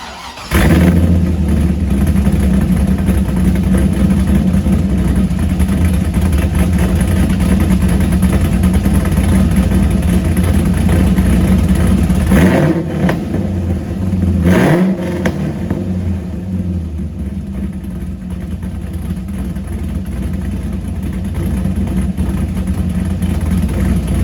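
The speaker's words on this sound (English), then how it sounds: "I'm just gonna jump right into an exhaust clip for you guys because this car sounds insane." A cammed Corvette C5 Z06 with an LS6 V8, BTR stage 4 cam and CNC-ported heads, its exhaust rumbling loud and choppy at idle with two sharp revs near the middle, no talking.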